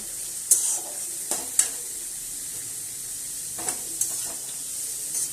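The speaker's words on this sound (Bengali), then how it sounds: "এবার এটা একটু ভাজা ভাজা করে নেব।" Diced carrots, potatoes and long beans fry in a pan with a soft, even sizzle, punctuated by several sharp clinks and scrapes of a spatula stirring.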